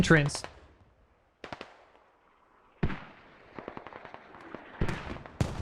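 Mortar explosions in the military shooter game Squad as Canadian mortars strike an objective, with several sharp, loud blasts spaced a second or more apart, each followed by rumbling debris and crackle.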